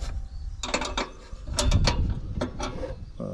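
A part on a Castelgarden GGP SD98 lawn tractor is tightened with a tool, producing a series of quiet clicking, ratcheting metal sounds in uneven bursts, heard close with no talking.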